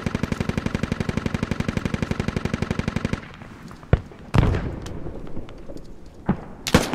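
Rapid automatic cannon fire from an A-10 attack aircraft in a military video game: a loud, fast, evenly spaced burst of shots for about three seconds, followed by scattered distant impacts and booms.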